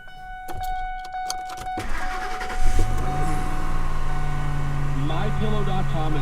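A car engine cranks and catches after a Schumacher SL1396 800 amp jump starter is hooked up, settling into a steady idle that runs under some talk and clicking.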